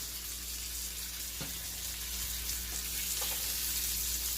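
Chicken pieces browning in oil in a pan for chicken stroganoff, a steady close hiss of frying with faint clicks and taps, no talking.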